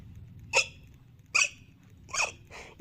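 A human voice imitates a hiccup, giving four short, sharp hiccup sounds spaced roughly evenly apart over quiet background noise.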